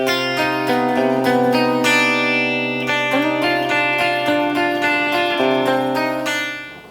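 An electric guitar plays a riff, with sustained, ringing harmonic notes sliding between pitches, steady and loud before fading at the end.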